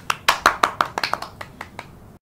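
Children clapping hands in a quick run of about ten sharp, close claps that trail off softer toward the end, then stop abruptly.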